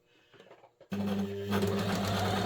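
After a moment of quiet handling, a sewing machine starts abruptly and runs with a loud, steady mechanical whir while stitching curtain fabric close by.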